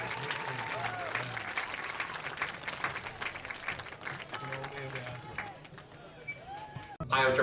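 Crowd applause and cheering for Hall of Famers at a high school football game, a continuous clapping wash with babble and shouted voices mixed in, fairly loud and sustained, with a voice talking over it.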